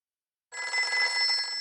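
A telephone bell rings indoors during a drama scene. It bursts in loud and close after a moment of silence and keeps ringing steadily.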